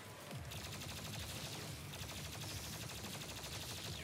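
Plasma gun in the video game Doom Eternal firing in a continuous rapid stream, a dense rattle of shots layered over low booming game sounds, loud and unbroken with no voices.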